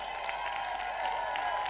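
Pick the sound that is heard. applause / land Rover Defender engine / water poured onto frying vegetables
applause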